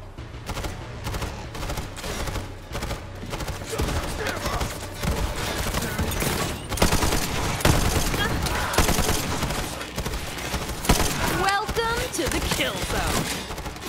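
Gunshots in Borderlands 3 crackle in rapid, dense volleys mixed with automatic fire and scattered single shots, loud and nearly continuous, with voices talking in the background.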